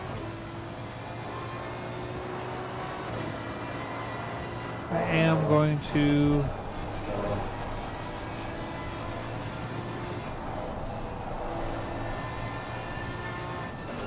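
A V12 front-engine race car in a racing video game holds a steady, droning engine note throughout, with a person talking over it.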